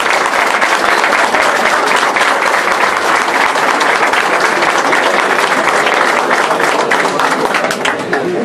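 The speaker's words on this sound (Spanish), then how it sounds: "¡Fuerte el aplauso!" A large outdoor crowd applauds loudly in the rain at a racing tour event, the clapping continuous and full for the whole stretch with no voices over it.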